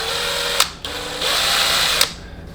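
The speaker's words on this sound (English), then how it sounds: "just letting the drill do all the work" An electric drill whirs steadily while coiling wire around a rod to make chainmail jump rings, its loud drone stopping briefly and restarting with sharp clicks.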